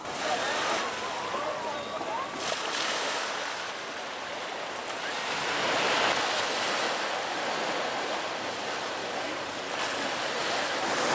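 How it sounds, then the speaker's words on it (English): Surf rolling into the bay at Playa Principal, a continuous wash of breaking waves that swells and fades, with wind buffeting the microphone. "The bay here in Playa Principal feels good to come relax, enjoy the waves, and do a little swimming"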